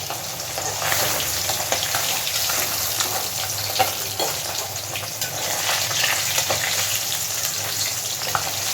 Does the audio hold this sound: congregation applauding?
no